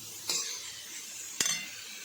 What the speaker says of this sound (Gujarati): આ રીતે એને અચકચરા શેકવાના, બહુ ફૂલ ફ્રાય નહીં કરી દેવાના